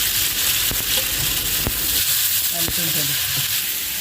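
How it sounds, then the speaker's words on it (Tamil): Chickpea sundal goes into a hot tempering with asafoetida in a home kitchen, giving a steady loud sizzle and frying hiss throughout, with a few light stirring knocks and a voice speaking briefly over it. "ஸோ தாளித்தது மேலே சுண்டலை போட்டுட்டு கொஞ்சம் இப்போது பெருங்காயத்தூள் வாசனைக்கு"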